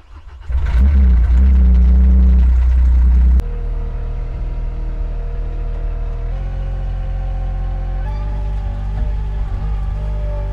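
MultiONE 6.3 mini loader engine cranks and fires with a heavy rumbling start, then settles into a steady, loud idle hum with slight changes in pitch as it keeps running.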